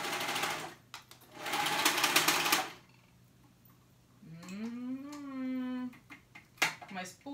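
A sewing machine stitches around a circle of fabric in two steady bursts, then a voice talks over the quiet room; close and clear.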